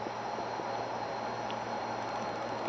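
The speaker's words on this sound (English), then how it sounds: "The air conditioner's on." A steady, even hum of an air conditioner running, with a constant low drone and broadband hiss and no changes throughout.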